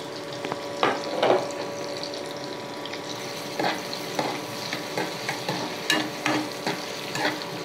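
Chopped onions and green chillies frying in a pan for a prawn and fresh coconut curry, with a steady low sizzle and bursts of spoon stirring and scraping against the pan.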